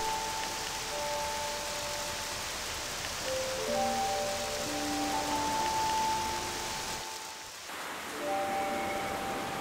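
Steady rain falls in the video game Octopath Traveler II, a continuous hissing downpour that stays loud throughout, with soft musical tones sounding beneath it and a brief dip near the end.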